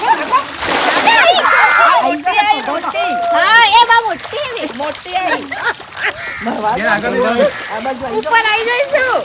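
Fish splashing in water as they go after puffed rice thrown in, a loud continuous churning splatter with voices talking over it throughout.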